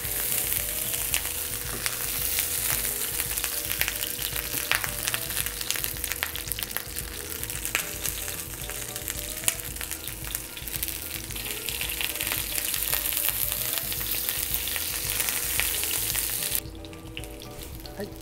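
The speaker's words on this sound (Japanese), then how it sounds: "フライパンの温度も下がらずに結構しっかり香ばしくこんがり焼き色をつけることができます" Stuffed squid sears steadily in a hot frying pan, a dense continuous sizzle and crackle running throughout, close and loud, dropping slightly quieter near the end, with no talking.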